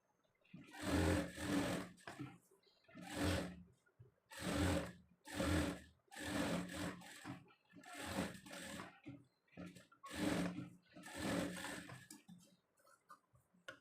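A sewing machine stitches blouse lining to the main fabric in repeated bursts of rapid, close mechanical whirring, each run lasting about a second with short pauses between.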